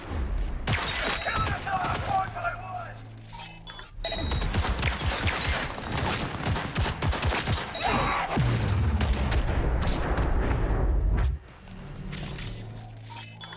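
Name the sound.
gunfire in the video game Cyberpunk 2077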